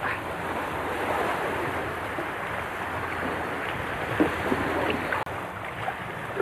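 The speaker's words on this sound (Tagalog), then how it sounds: "Grabe, ang lakas ng hangin." Steady loud roaring wind buffets the microphone, mixed with the wash of waves and water, with no talk, on a boat while fishing.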